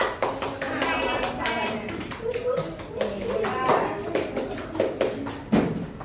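Children in a primary classroom clap their hands together in a rhythmic, patterned beat, sharp claps in quick bursts with children's voices mixed in between.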